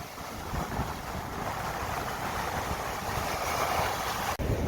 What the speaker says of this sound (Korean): 파도 생각보다 높은데요?